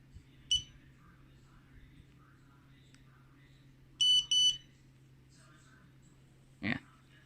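An Andoer A360II camera gives two quick, high electronic beeps as it takes a picture, close and clear over a low steady hum, with a soft click earlier and another short click near the end.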